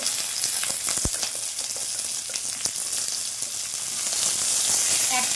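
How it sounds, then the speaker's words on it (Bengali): Capsicum and onions fry in a pan with a steady, close sizzle, broken by a few sharp scraping clicks as they are stirred; no one speaks. "ক্যাপসিকামটাকেও গোল্ডেন ব্রাউন করে ভেজে নিতে হবে।"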